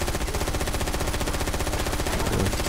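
Sustained automatic weapon fire from the video game Far Cry 4 hammers on without a break, a loud, close, steady rattle.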